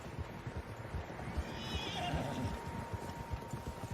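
Several horses in Red Dead Redemption 2 whinny and snort out on open ground, with a steady patter of hooves underneath, a few hoofbeats standing out, while a bright neigh rises near the middle.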